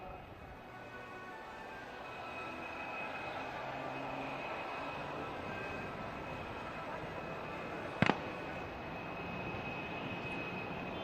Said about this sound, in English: The aircraft is now recovering and coming in for a horizontal figure of 8 maneuver.